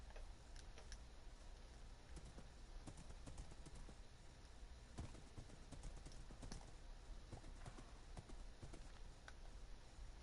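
Horse hooves clip-clop in the video game Minecraft, a quiet, irregular series of hollow taps that continues steadily throughout with no voices.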